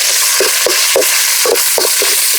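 Onions hitting hot oil in a kadai for crab masala give a loud, steady sizzle, broken by several short stirring scrapes spaced through the clip.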